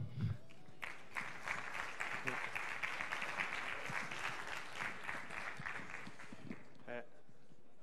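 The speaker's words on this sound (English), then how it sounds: "So please clap and enjoy." A conference audience at a developer event claps for several seconds, moderately close and uneven, with individual hand claps standing out before the applause stops abruptly.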